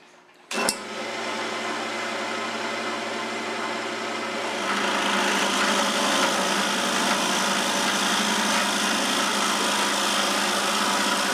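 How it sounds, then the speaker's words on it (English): A power drill starts with a click and runs steadily at high speed, its whine growing rougher and louder as it bores a hole into wood. "Since I know I drilled with this drill, I'm going to start with that drill"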